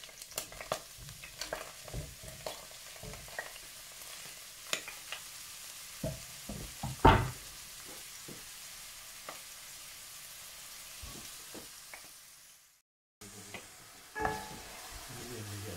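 Oil heating in a cooking pot while being stirred, a faint continuous sizzle with scattered clinks and scrapes of a utensil, a short silent gap, then renewed stirring.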